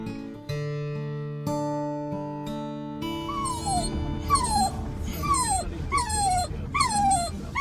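A whippet at a doggy daycare whimpers in a series of rising, whiny yelps over a steady background hum, repeating several times close to the listener.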